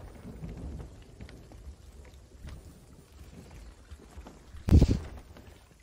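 Rain and a thunderstorm in the pirate video game Sea of Thieves: steady rain patter under a low rumble, then one loud, sharp thunder crack near the end.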